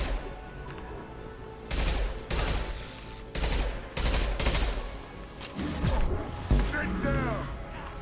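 Bursts of shotgun fire in the video game Mass Effect 2, several loud blasts in irregular succession over game effects, with a voice talking in between.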